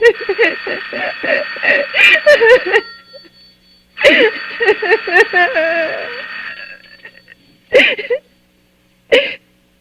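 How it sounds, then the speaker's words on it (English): A telephone ringing as a radio drama sound effect, bright repeated bell bursts in irregular groups, with someone speaking between and over the rings before it stops. "Let it go on ringing. It's a trick of some kind. And I won't answer it."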